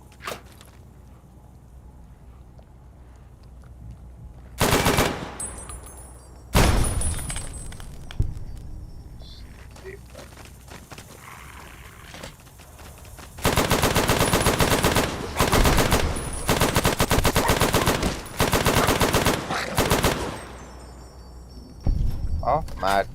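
Rapid automatic gunfire from a modded weapon in Fallout New Vegas's Old World Blues DLC, loud bursts firing in quick succession, with single shots early on and dense sustained volleys later, over faint background game ambience.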